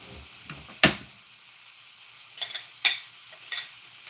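A fork scrapes and taps against a bowl while whisking muffin mix, a few sharp clinks separated by quiet gaps and softer scraping strokes, close by, with no talking.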